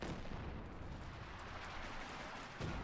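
British artillery shelling a trench in the WWII strategy game Company of Heroes 2, heard as a continuous low rumbling barrage of dull booms under a noisy battlefield wash, with a stronger thump near the end.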